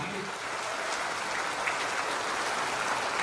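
Broad, even applause from a formal audience welcoming a new government minister, a steady hiss-like wash of many hands clapping at moderate loudness with no voices heard.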